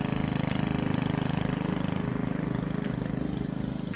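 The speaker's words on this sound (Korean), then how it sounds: "길었던 잔디 깎이는 거 보이시죠?" A lawn mower engine runs steadily up close cutting long grass in a rural yard, a continuous loud drone with a fast, even pulsing throb.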